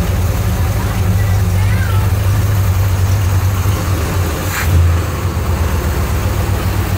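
A 1968 Pontiac GTO with a Ram Air II engine idles with a lopey cam, giving a loud, steady low rumble and a slight vibration. It runs close and continuous, with a brief swell near the end and no talk over it.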